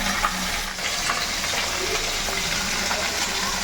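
Fish pieces frying in hot oil, two or three at a time, in a home kitchen in Bengal: a steady, dense sizzle and crackle held at an even loudness throughout, close by, with no talking.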